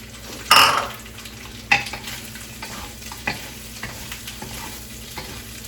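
Tofu and shrimp frying for Pad Thai sizzle steadily in a pan, with a few sharp clanks and scrapes of a utensil stirring against the metal, close by and without talking.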